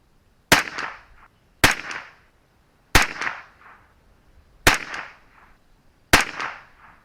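A .22LR rifle firing Remington Target ammunition outdoors: five sharp, loud shots spaced about a second or more apart, each followed by a short echo tail, with no talking.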